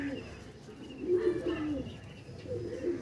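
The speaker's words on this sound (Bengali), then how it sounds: "কি দুর্দান্ত লেভেলের পায়রা" Andhra pigeons from a fancier's collection coo softly at close range, giving a few low, rounded phrases over a quiet background hum.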